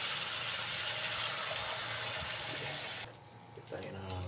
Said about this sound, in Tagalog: Lagay tayo ng tubig, mga idol.